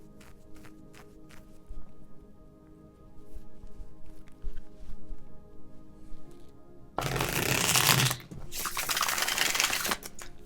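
A deck of playing cards being shuffled: a loud, dense riffling burst of about a second near the end, after quieter scattered handling taps and clicks.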